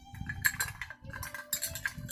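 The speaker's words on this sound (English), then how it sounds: "We're going to stir." A bar spoon stirs a Campari cocktail in a glass, giving soft repeated clinks and a whirling swish in short bursts, faint and close, with no talk.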